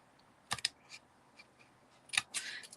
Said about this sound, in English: So I'm just going to cut up to that first branch.